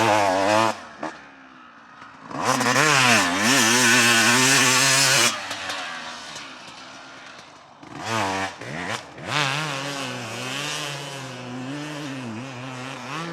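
A 2020 or 2021 Yamaha YZ250X two-stroke dirt bike is ridden off-road, its engine revving up and down in loud rising and falling sweeps, easing off briefly between bursts and pulling hard again with no talking.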